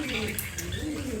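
Pigeons coo softly in a pigeon loft, with low, throaty calls heard through steady background noise and faint voices nearby.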